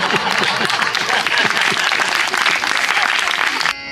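Dense, sustained applause from an audience at a Gondhal folk performance in the USA, loud and continuous with many overlapping claps, cutting off abruptly at the end.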